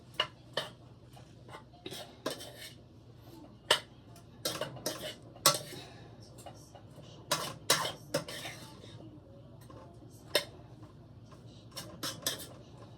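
Vegetables for veggie spaghetti stirred in a simmering pan, with a utensil knocking and scraping against the metal in irregular sharp clinks over a low background rumble.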